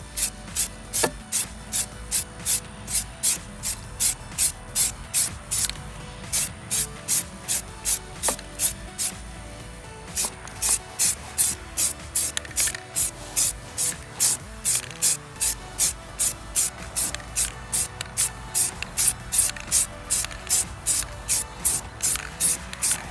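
Aerosol spray paint hisses onto car wheels in dozens of short, evenly spaced bursts, a quick near rhythmic pattern with only a brief pause midway and no talking.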